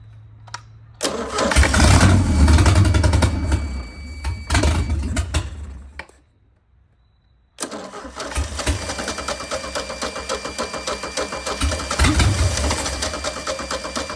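A 1987 MerCruiser 3.0 boat engine, flooded with fuel, grinds on its starter with help from a jump pack. Two long, loud cranking bursts are separated by a few seconds of near silence, with the second run churning on steadily.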